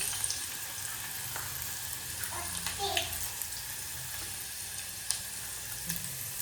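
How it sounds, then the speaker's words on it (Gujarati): Garlic, asafoetida and cumin sizzle steadily in hot oil while fenugreek leaves are cooked, a close, continuous frying hiss with a few light stirring clicks throughout. "પછી થોડીક હિંગ નાખી દેવાની પછી છે આપણે લસણ નાખી દીધું"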